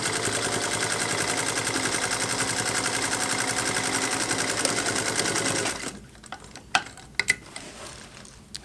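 Singer Heavy Duty sewing machine stitching a jeans hem, a rapid loud mechanical clatter running steadily for several seconds before stopping, followed by a few sharp clicks and knocks.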